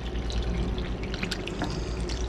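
Water poured into a crock pot while making swamp stew with smoked sausage, a steady close splashing and trickling stream running throughout without pause.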